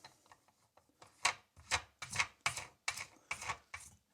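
Plastic nut being hand-tightened onto a bathroom sink drain pipe, a series of rhythmic rasping, ratcheting scrapes roughly every half second, close and fairly quiet, with no talking.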